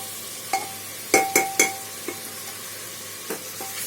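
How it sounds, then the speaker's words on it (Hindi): Chicken frying for biryani in a pressure cooker with spices added, heard as a few sharp clinks and scrapes of a spoon stirring against the pot over a low sizzle, with no one speaking. "2 मिनट तक मैं इसे भूनूंगी।"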